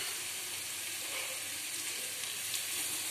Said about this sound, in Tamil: ஒரு 2 நிமிஷம் அது நல்லா ஃப்ரை ஆகட்டும்